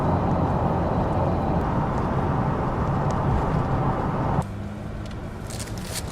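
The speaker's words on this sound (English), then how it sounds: "I'm getting mostly road noise from these extra wide tires that happen to be on here" Dense, steady road roar from extra-wide tires heard inside a moving Nissan Skyline GTR R34 V-Spec II, loud and continuous, dropping abruptly to a softer hum toward the end.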